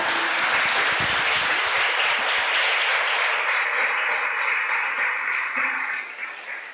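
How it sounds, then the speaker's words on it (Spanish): Loud, continuous applause from a congregation at a family church gathering, a thick wash of many hands clapping together, steady and close, then starting to fade toward the end. "Den un aplauso al Rey de Gloria"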